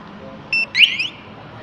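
A short electronic beep is followed by a quick rising chirp from a TEXNO Super Two Way motorcycle alarm locking by remote on a Benelli TNT25, over a low steady background hum.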